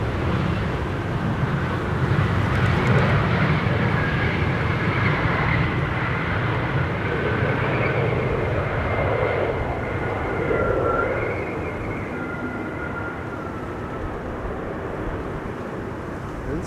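Airliners descending on approach to runway 27 at Schiphol give a loud, sustained engine roar with a whining tone that swells and fades slightly over the span, heard without talk.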